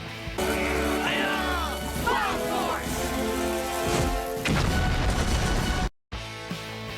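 A busy, loud mix of crashes and booming blasts with whooshing effects and voices underneath, from a Power Rangers TV show, ending with a sudden cut to silence before a brief return.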